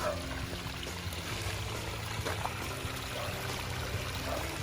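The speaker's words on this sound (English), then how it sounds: "Cool little natural waterfall." A small natural waterfall spills over gravel and a laid branch into an ecosystem pond, a steady, even splashing rush that continues unbroken throughout.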